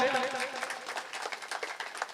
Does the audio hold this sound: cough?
no